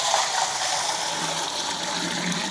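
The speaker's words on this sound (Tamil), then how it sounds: "தண்ணி வந்து ஊற்றிக்கிறேன்." Water pours steadily into a copper pot holding salt, a continuous close gushing splash that runs unbroken and fairly loud.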